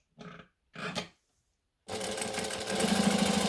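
A sewing machine top stitching fabric for a sewing tutorial starts after two short bursts of sound and then runs steadily at close range, growing a little louder toward the end.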